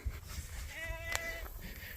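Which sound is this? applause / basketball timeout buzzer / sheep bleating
sheep bleating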